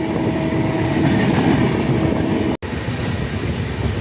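Steady rumble and rattle of a passenger train rolling along the tracks near Eluru station, continuous and close, with a brief dropout near the end.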